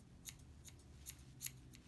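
Several quick, crisp scissor snips at a steady pace, close by, trimming matted dog fur, with a low background hum and no talking.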